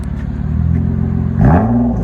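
A 2014 Nissan Maxima 3.5L V6 with dual exhaust, a Vibrant resonator and a muffler delete idling with a deep, loud rumble up close, then a quick rev that rises and settles back down.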